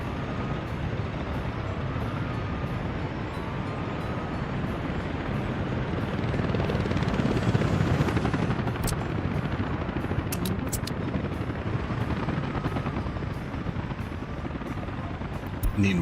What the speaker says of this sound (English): Need more choppers.